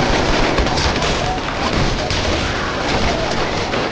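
Army gunfire and explosions hammer an apartment building in a drama scene, a dense, continuous roar of shots and blasts with no pauses, loud and close throughout.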